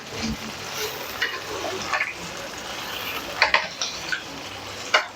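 Tandoori chicken pieces stirred in a frying pan, a steady sizzle with several sharp scraping and clanking strokes of the spoon close by, no talk during the stirring.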